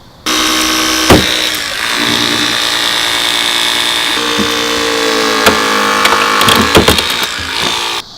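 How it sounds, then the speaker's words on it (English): A hydraulic rescue cutter shears through a car's window frames during extrication training, producing a loud sustained grinding, creaking strain with sharp cracks and snaps of metal breaking at intervals. "So you can see the cuts our cutter made got as much of the window frame out of the way as possible."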